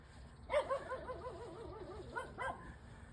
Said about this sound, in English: Oh, it's some other dog squeaking.